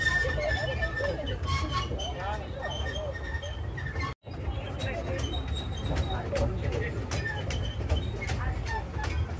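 A toy train carries riders around an amusement park, giving a steady rumbling ride with faint rhythmic clicking from the wheels, continuous and close. People talk throughout, and the sound cuts out briefly partway through.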